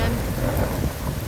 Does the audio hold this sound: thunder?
yes